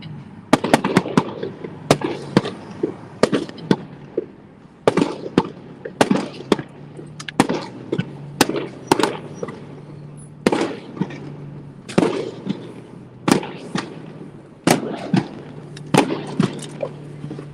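Fireworks going off after a Rochester Red Wings baseball game near Kodak Tower, a long run of sharp bangs and crackles at irregular intervals, some clustered, echoing at moderate distance over a steady low hum.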